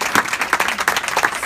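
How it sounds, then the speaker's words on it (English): Applause from the audience at a Lab School alumni reunion gathering, a short burst of steady, close clapping from a modest group of people. "I want to give these guys a round of applause."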